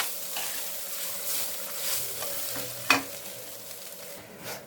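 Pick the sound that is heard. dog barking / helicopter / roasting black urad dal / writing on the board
roasting black urad dal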